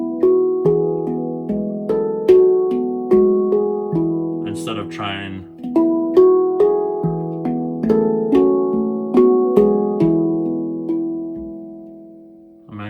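A handpan played through a song in a steady melodic rhythm, its ringing metallic tones overlapping and decaying, close and loud, while someone briefly speaks partway through.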